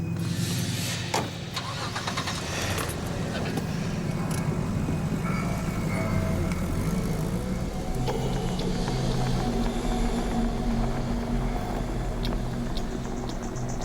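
A car engine labours under heavy strain while crossing hot desert terrain, a steady loud low drone and rumble running continuously without pause.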